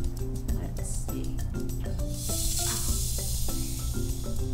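Carbon dioxide gas escapes from a root beer bottle as the lid is turned, a short airy hiss lasting about a second over a background of music and voices.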